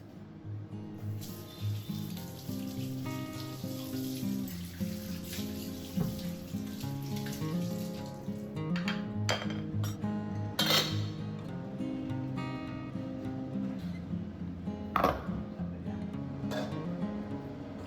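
Dishes are washed at a kitchen sink under a running tap, with a steady stream of water and scattered close clinks and knocks of plates and utensils, some sharper clatters standing out.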